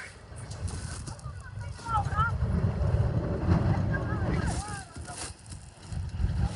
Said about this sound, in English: and it's windy like this